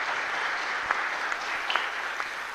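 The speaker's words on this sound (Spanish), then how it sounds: "Fuerte aplauso para el Señor entonces." Applause from a congregation at a Catholic Mass in a chapel, a short steady patter of many hands with a few sharper individual claps standing out, moderately loud and roomy.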